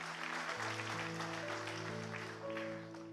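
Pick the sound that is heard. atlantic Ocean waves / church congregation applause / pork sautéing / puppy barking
church congregation applause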